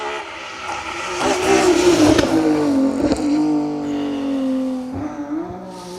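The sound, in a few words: rally car engine revving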